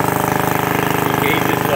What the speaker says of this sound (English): we'll rev it up a little